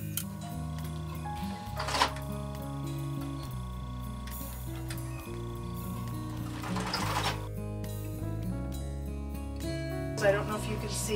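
Sewing machine stitching through bulky layered fabric, a steady mechanical whir with rhythmic ticking from the needle action, running under a person's talk throughout.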